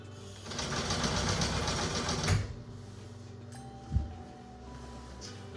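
A sewing machine stitches blackout drape fabric in a fast, loud, steady whir for about two seconds, then stops, and a few faint clicks and handling noises follow.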